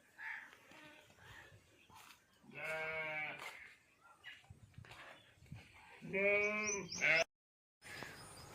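Sheep bleating on a farm, several loud, drawn-out calls at close range, with quieter livestock sounds and brief background chatter between the cries.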